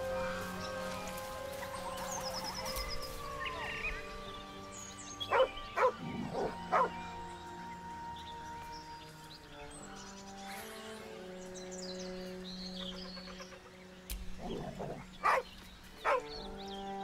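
Dog barking in Baldur's Gate 3, a few short sharp barks at mid distance standing out over steady fantasy game music and ambient tones.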